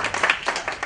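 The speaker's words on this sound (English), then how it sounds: "So let's give them a round of applause for what they do." Audience applause for the Beacon newspaper at a senior expo presentation, a dense wash of many hands clapping steadily for about a second, fairly close and continuous with no voices over it.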